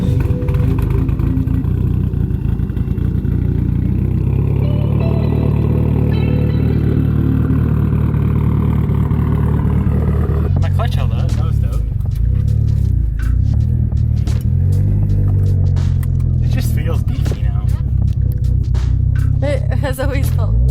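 A Mitsubishi Evo 8 making about 700 horsepower is revved on a dyno, climbing in a loud, sustained engine roar, then dropping into a rough burble with rapid sharp pops and crackles.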